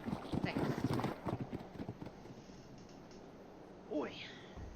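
Hooves of a horse in the video game Ark clip-clop in a quick burst of steps that fades, followed by a short rising whinny-like cry near the end.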